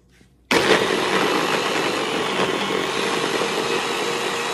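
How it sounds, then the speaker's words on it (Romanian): An electric kitchen blender switches on abruptly after a brief quiet moment and then runs steadily and loudly, a dense whirring roar while ingredients are blended for butter chicken. "Hai, acum băgăm la blender."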